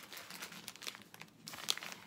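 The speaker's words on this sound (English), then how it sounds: "let me take it out of the bag" A plastic bag crinkles and rustles quietly at close range as a small makeup sponge is pulled out, with irregular crackles and a sharper crunch near the end.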